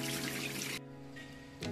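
Running tap water pours steadily over fresh coriander being washed in a sink, loud and close, then briefly quieter before the flow picks up again.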